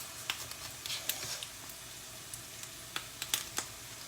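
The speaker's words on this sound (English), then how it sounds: "And this ginger garlic we will be roasting with the onion." Grated ginger and garlic roast with onion in a pan, a soft steady sizzle under scattered light taps and clicks of stirring, close and fairly quiet, with no voices.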